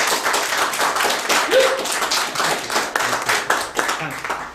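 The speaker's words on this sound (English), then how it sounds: "could I have a round of applause for our speakers?" An audience claps for the speakers at a Q&A event, a loud, continuous burst of applause that rises and thins slightly toward the end, with a brief voice sounding through it.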